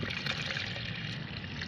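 Plain water poured into mustard cake fertilizer to dilute it for plants, a steady, close pouring and trickling wash lasting the whole moment, with no talking.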